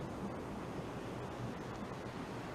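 Ocean waves break on a shore in a continuous, dense wash of surf noise, steady and enveloping with no distinct pauses and no voices.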